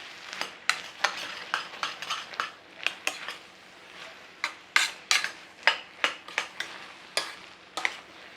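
A spoon scrapes and clinks repeatedly in a pan while cornflour slurry is stirred into a gently sizzling apple pie filling, the strokes coming in an irregular rhythm, close and fairly quiet.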